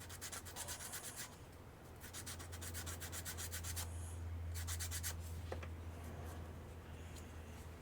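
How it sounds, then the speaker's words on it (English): Sandpaper rubs across a trimmed part for a custom 12-inch GI Joe action figure in fast, even back-and-forth strokes, pausing briefly between bursts over a low steady hum. "So that's now trimmed, it's sanded."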